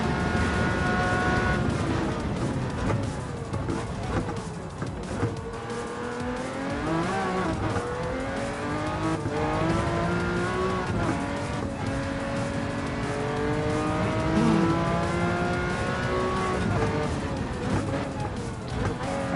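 Race car lapping a circuit in Gran Turismo 7, engine revving and shifting through gears continuously with rising and falling pitch, occasional tire squeal, steady and close for the whole stretch.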